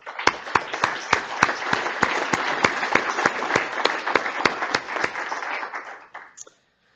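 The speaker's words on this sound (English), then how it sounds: "So a round of applause for Sarah." An audience at an association's annual general meeting business session breaks into sustained applause, a dense wash of clapping with sharper individual claps standing out, holding steady for about six seconds before stopping abruptly.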